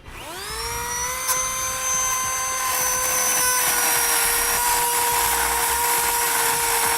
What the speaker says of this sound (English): We're going to use a little cutoff wheel here to do it.